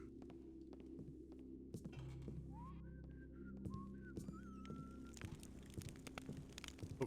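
Someone whistles a short tune nearby, the notes drifting in a few brief rising phrases over a steady low ambient hum and throb in the stealth game Thief Gold, with faint soft clicks and no talk.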